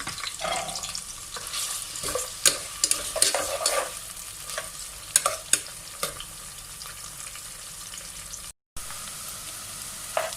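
Sliced onions frying lightly in a pan for matar gosht, a steady close sizzle broken by frequent sharp scrapes and clacks of a stirring spoon, with a brief dropout near the end; no talk.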